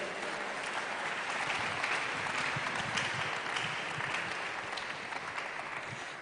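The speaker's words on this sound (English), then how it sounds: "Give them a big round of applause once again." Audience at a business roadshow event giving a sustained round of applause, an even, continuous wash of many hands clapping, somewhat distant and steady throughout.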